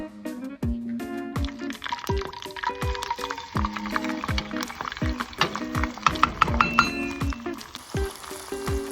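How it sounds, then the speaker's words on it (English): Oil bubbling and sizzling with split peas frying in it, crackling pops close by, irregular and lively, with faint background knocks. "Now that the oil's bubbling pretty rapidly around the split peas"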